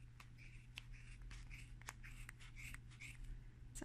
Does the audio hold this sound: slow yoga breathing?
no